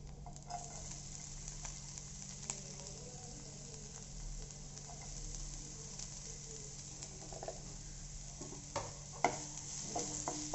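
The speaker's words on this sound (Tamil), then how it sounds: "ஸோ இந்த பூண்டு நல்லா வறுபடும் போது நம்ம நறுக்கி வச்சுருக்க வெங்காயத்தை அது கூட சேர்த்துக்கலாம்." Garlic fries in a pan with a soft, steady sizzle and faint crackle, low and continuous, with a few small clinks toward the end, while preparing vegetable rice with kodo millet.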